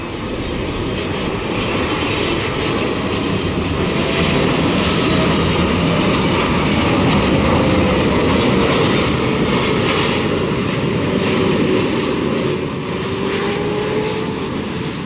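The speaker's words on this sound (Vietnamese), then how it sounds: "mời mọi người chiêm ngưỡng phá cánh chiếc máy bay của Eva Air này xuống đường băng 25 phải nha" An Eva Air airliner lands on runway 25R at Tan Son Nhat, a loud sustained jet roar with a slowly shifting whine, steady throughout at close range.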